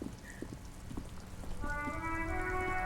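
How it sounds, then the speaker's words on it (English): Rain falls over the city of Revachol in Disco Elysium, a soft steady patter with scattered drips, joined later by a sustained musical tone. "All around you, rain falls on the great city of Revachol. Rain drips from the eaves and floods the gutters"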